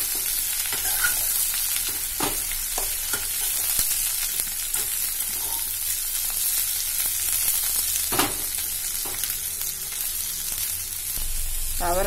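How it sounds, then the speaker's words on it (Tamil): Chopped broad beans (avarakkai) being tossed and stirred in a hot pan, a loud continuous sizzle with scattered spatula scrapes and knocks, close up and without voices. "அவர்க்காய் ஆட் பண்ணிட்டு நல்லா கலந்து விட்டுக்கோங்க"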